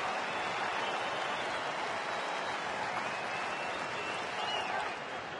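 Lively baseball stadium crowd clapping and cheering at a game, a broad, sustained roar of many voices and hands that stays steady throughout, heard from within the stands.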